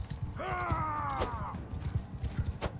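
A horse in the medieval combat game Mount & Blade II Bannerlord gallops with steady, rapid clip-clop hoofbeats throughout, and a loud whinny rises over them early on during a battle.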